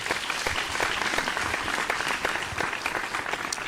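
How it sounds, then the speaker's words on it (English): Studio audience applause for the top five contestants of a televised singing competition, dense and continuous clapping from a large crowd, filling the whole stretch at an even level without speech. "please give them another big round of applause, our main stars of the show"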